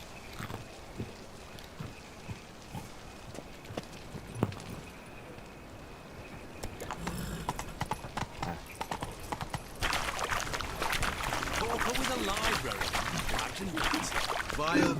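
Horse hooves clip-clop steadily through a Witcher 3 game scene, at first sparse and faint, then thicker and louder in the second half, with a voice speaking over the ride.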